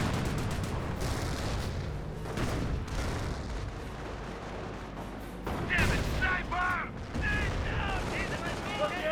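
Gunfire in a Company of Heroes 1 battle with German Grenadiers pinned down: sustained, dense rifle and machine-gun fire with distant booming, steady and busy throughout under game sounds.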